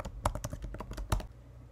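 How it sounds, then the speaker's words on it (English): Brief quick typing on a Mac computer keyboard, a close, quiet run of about a dozen clicky keystrokes with a couple of heavier presses. "you're going to want to type"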